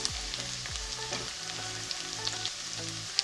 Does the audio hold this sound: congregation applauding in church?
no